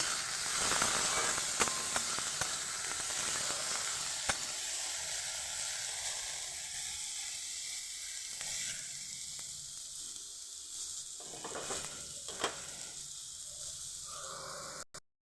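Steady, loud sizzling of potatoes frying in hot oil, with occasional light scrapes and taps as they are stirred.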